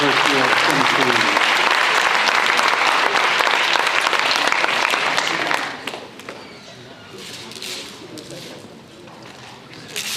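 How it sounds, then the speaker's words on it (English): Broad applause from a crowd at a high school signing day ceremony, loud and sustained for about six seconds before thinning into scattered claps and room noise. "One more round of applause for Libby, Russum, from the University of Tennessee."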